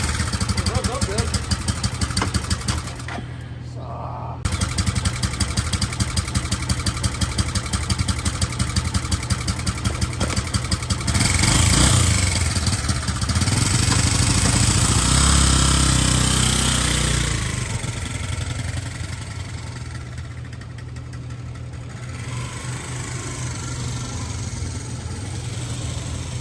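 A restored motorcycle engine, recovered after being abandoned, runs steadily at close range, with a brief cutout near the start and a louder surge midway before settling back to an even idle.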